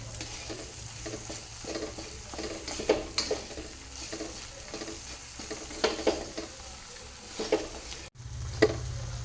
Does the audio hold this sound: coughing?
no